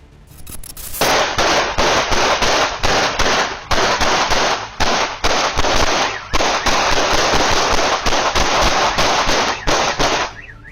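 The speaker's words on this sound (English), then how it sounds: "The sound of the gunfire will transport you straight to New Orleans" Rapid bursts of loud gunfire crackle in clusters, sharp repeated reports broken by brief pauses, harsh and close.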